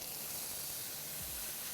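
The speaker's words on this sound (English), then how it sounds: "when you drop your salmon in the pan, should be a nice sizzle sound." Pink salmon hitting a hot pan sets off a steady, broadband sizzle and hiss that holds at an even level, close and continuous, with no one talking.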